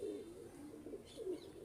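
Pigeons, including fancy breeds kept by a fancier, softly cooing in low, rounded pulses, faint and somewhat distant over a quiet background.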